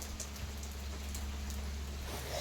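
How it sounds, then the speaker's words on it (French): Heavy rain during a storm, a steady, faint patter of drops drumming on a surface, with scattered louder drips and no speech. "Et ça pleut."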